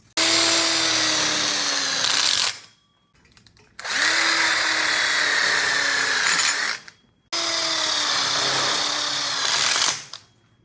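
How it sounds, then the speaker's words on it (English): Power drill driving screws into a clamped outdoor kitchen frame, three long loud whirring bursts separated by short pauses, close and alone. "now we clamped it in, and we're gonna screw this in."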